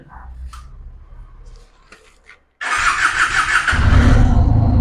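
A motorcycle at a dealer's lot cranks and fires up after a few faint bumps, then settles into a loud, close, steady engine running that grows fuller and heavier toward the end.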